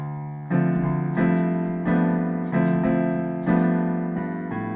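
Solo piano plays an improvised chord pattern moving through inversions, with five firm chord strikes spaced about a second apart, each ringing and slowly decaying, clear and close with no talking.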